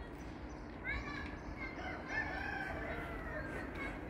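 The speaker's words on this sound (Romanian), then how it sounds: "Se aud și cocoși aici." Roosters crow at a distance in a rustic residential area of Istanbul, a couple of drawn-out calls rising over steady outdoor background noise.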